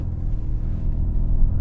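A BMW 4 Series and an Audi A5 in sport settings, accelerating side by side in third gear with manual shifting from about 50 mph, giving a steady, loud, low engine rumble with no talk.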